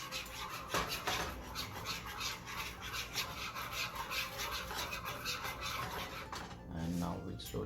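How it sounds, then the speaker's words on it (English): A whisk works room-temperature butter into a milk mixture with quiet, rapid rhythmic scraping and rubbing against the bowl, close and continuous, plus a few faint clinks. "start to really whisk it really"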